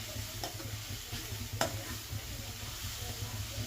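Grated carrots fry in ghee for carrot halwa, giving a soft, steady sizzle with faint scraping stirs and one sharp utensil tap, heard up close without speech.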